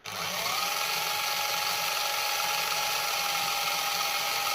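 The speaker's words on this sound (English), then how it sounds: "at slow speed I can hear the motor running a little bit" A small electric motor in a 1/24 scale RC drift kei truck whirs at slow speed, a thin steady mechanical buzz with faint gear whine, running evenly nearby.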